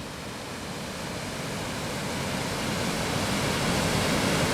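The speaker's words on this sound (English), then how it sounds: "Just down below, we've got the waterfalls there. These are called Ure-Redmire Falls." Redmire Falls on the River Ure roars with a broad, steady rush of falling water that swells slightly louder, full and close with no voices.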